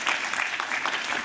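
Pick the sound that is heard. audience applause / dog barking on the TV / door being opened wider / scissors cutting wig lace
audience applause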